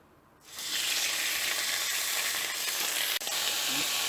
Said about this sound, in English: drop in the marinated pieces.